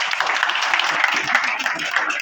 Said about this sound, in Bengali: তাদের জন্য একটা করতালি দেন